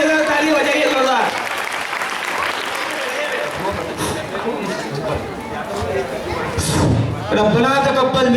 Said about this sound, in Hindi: दोनों ग्रुप के लिए ताली बजाइए जोरदार।